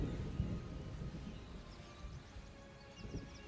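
An approaching thunderstorm in the fantasy game Solasta 2 rumbles low and distant, with soft rain noise and a brief sharper crack near the start, fading slightly afterward, no talk.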